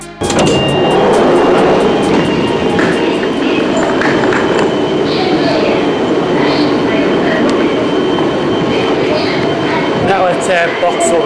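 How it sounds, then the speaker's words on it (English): A steam train passes through Vauxhall station in London with a loud, continuous roar and rattle, close by and steady for the whole stretch. "Steam train at Vauxhall"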